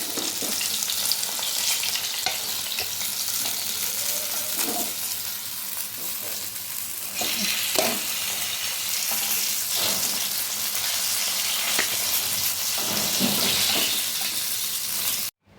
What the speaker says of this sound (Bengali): এখন আমি এই পিসটাও ভালো করে ভেজে নিচ্ছি।